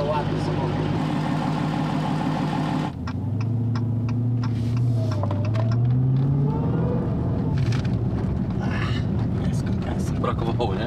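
A black Dodge Challenger Hellcat Redeye with a supercharged engine of over 800 hp, heard first with a steady deep rumble, then climbing through revs in a rising engine note. People talk loudly over much of it.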